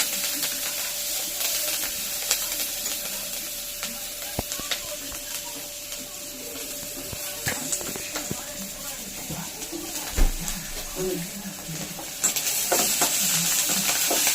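Curry frying in a pan, with a steady hissing sizzle and intermittent scraping taps of stirring, moderately close, while someone talks over it at times.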